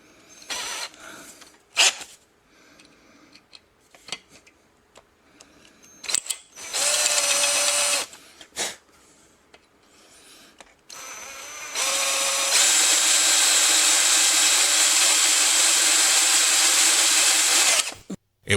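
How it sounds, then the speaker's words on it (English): A power drill whines in short bursts, then runs steadily for several seconds, grinding up close into the bottom of a freeze-cracked 400 engine block. "we want to make sure we drill right at that angle"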